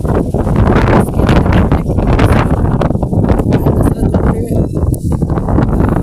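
Strong wind of a dust storm buffets and rumbles in loud, uneven gusts, with rustling and rough blasts across the microphone throughout.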